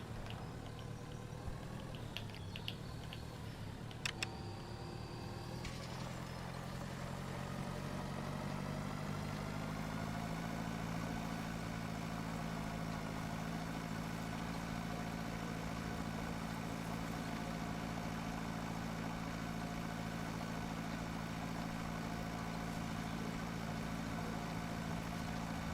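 A tractor engine idles in the farming game Pure Farming 2018 with a steady low drone and hum. A brief clatter comes early, then the idle settles into a smooth, even hum. No one talks.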